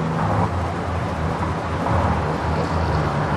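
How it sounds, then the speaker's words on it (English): Strong wind roars as broadband rushing noise during a fast tuk-tuk ride through a Thai city, with buffeting gusts and road rumble underneath. The noise is loud and continuous, with no voices. "I don't know if y'all can hear the wind, but the wind is wild right now."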